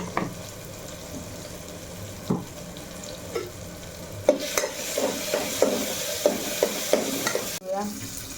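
Khichdi roasting in a pan with rice just added, steady frying hiss broken by repeated scraping stirs of a spoon against the pan, close and fairly loud, with no talk.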